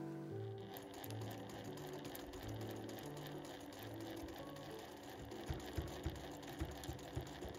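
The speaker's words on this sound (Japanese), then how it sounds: "ここの部分を1センチで縫っていきます" A sewing machine stitches a one-centimetre seam on a flap tote bag, a quiet, steady rapid mechanical whirr with a few louder clicks near the end, close by with no talking.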